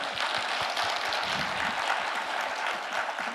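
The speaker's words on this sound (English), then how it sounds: "So please give a round of applause to everyone who's helping this event." An audience at the Thailand Security Dialogue 2024 security conference gives a sustained round of applause, dense, even clapping from many hands that fills the room throughout.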